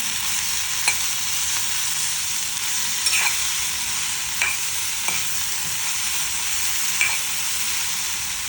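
Tomatoes frying in a pan for tomato chutney, a steady bright sizzle with a few spaced clinks and scrapes of stirring, close and continuous, with no talking.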